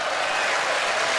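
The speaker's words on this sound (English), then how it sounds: "That's the applause button." A short burst of applause played from a soundboard button on a radio show, even crowd clapping at a steady level that ends quickly, with no talking over it.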